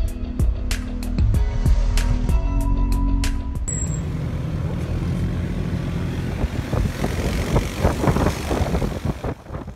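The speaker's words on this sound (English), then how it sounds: "Beach is right beside the Princess Juliana International Airport, where 165 airplanes fly by every day" A propeller airplane roars low over the beach beside Princess Juliana International Airport in St. Maarten, a loud sustained engine drone, with scattered clicks and thumps early on and wind-like rushing as it passes.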